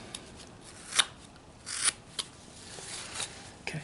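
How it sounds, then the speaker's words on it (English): A sharp knife carves a wooden figure's hat brim, producing scraping, shaving strokes in irregular bursts, close and moderately loud with no speech. "You want your knife to be sharp so you can cut this"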